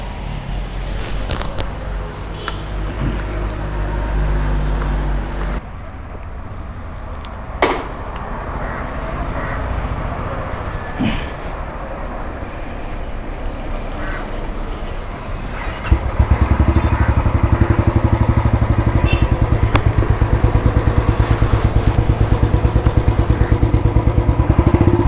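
A Royal Enfield Bullet BS6 ES motorcycle with a full open silencer and increased torque, its oxygen sensor faulty, idles with a loud thumping exhaust, blips once, then settles into a louder, heavier, steady throb.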